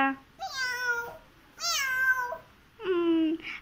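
A voice imitates a cat's meow in three drawn-out, tonal meows with brief pauses between them, close and clear.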